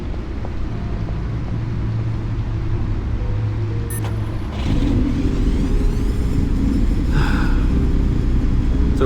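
A powerful car engine of over 600 horsepower rumbles low and steady in a Batman game, growing louder and fuller partway through, with a few brief metallic clicks on top.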